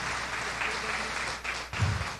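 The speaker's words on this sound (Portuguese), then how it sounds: "Glória a Deus. Podem aplaudir." A church congregation at an Assembly of God service claps in a dense, steady wash of applause, fairly distant, with a brief lull and a low thump near the end.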